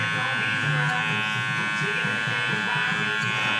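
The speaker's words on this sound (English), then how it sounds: "and taking the clipper across it" Electric hair clippers buzz steadily through a scissor haircut at a barber shop, worked clipper-over-comb across the hair, a continuous close motor drone with slight pulsing as the blade passes.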